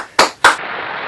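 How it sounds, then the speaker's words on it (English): Two sharp, loud bursts about a quarter second apart, followed by a steady crackling hiss, like firecrackers going off. "Explosions and fireworks!"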